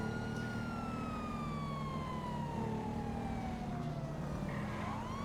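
Police siren in the video game GTA V, a wailing electronic tone that sweeps steadily downward and then rises again, accompanied by a low vehicle engine hum, moderately faint with no voices.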